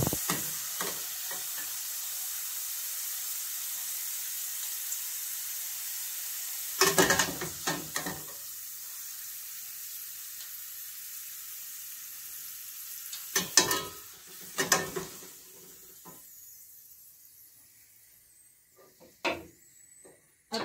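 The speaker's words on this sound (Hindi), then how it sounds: "इसको भी डीप फ्राई करके निकालेंगे। गाजर फ्राई हो गए हैं" Carrots deep frying in hot oil make a quiet, even hiss that runs for a long stretch, broken by a few sharp bursts of clattering as the pieces are stirred and lifted out near the end.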